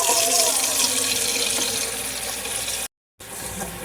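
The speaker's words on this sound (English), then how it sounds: "So I'm getting some water." Water runs steadily from a tap into a container while lime pickles are being prepared, a loud, continuous rushing close by that cuts off briefly and then resumes.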